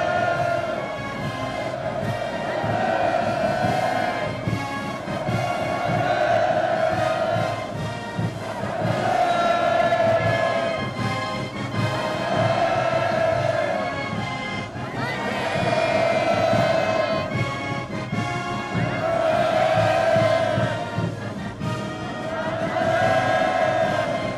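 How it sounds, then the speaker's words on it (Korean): Welcoming crowd in North Korea greeting Xi Jinping, a loud, massed roar of cheering and shouted hurrahs rising and falling in long repeated swells, sustained throughout with no individual voice standing out. "환영 군중들은 정력적인 대외 활동으로 조중친선의 새로운 개화기를 열어나가시는 경의하는 최고령도자 동지를 우러러 폭풍 같은 만세의 환호성을 터쳐올렸습니다"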